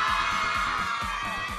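Fans at the KAZZ Awards red carpet scream nonstop, a loud, shrill wall of crowd shrieks and cheers that holds steady throughout.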